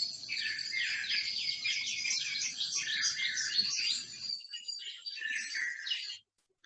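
Many birds call at once in an early morning dawn chorus, a dense overlapping tangle of high chirps and trills held at steady volume, thinning near the end before cutting off.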